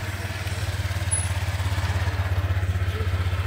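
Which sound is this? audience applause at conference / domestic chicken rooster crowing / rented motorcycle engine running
rented motorcycle engine running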